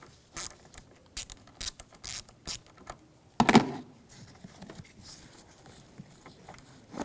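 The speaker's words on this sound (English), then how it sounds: "We're going to use a 10mm socket." A ratchet fitted with a 10mm socket loosens the negative battery terminal on a 2011-2018 Volkswagen Jetta, giving a series of short, sharp clicking bursts up close, then a louder clunk and a few softer clicks.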